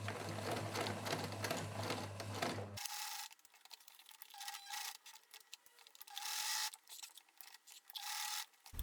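A sewing machine runs in quick bursts, stitching the folded ends of 11 cm webbing strap pieces, its loud rapid whir close by and stopping and restarting between seams.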